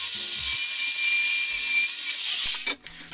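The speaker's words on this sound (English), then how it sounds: "So now I'm just taking my portable bandsaw and just holding it up there." Close, loud whine of a portable bandsaw cutting through metal for a heavy-duty welded hose and cord holder, a steady high buzz that holds for most of the clip before it drops away near the end.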